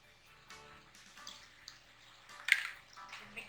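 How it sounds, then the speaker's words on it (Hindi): Water poured into a glass with ice for a raw mango aam panna drink, a soft, quiet splash and trickle with a brief bright clink partway through. "इसके अंदर मैं डाल दूंगी पानी"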